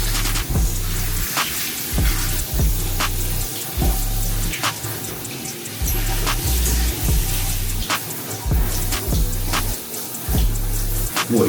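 Water runs steadily from a tap into a tub during a dog's bath, a loud continuous rush with small knocks and splashes throughout and no speech.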